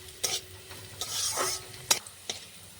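Bitter gourd frying in oil in a home kitchen, with a few short scraping stirs at intervals over a soft, steady sizzle, fairly close and quiet, no talking.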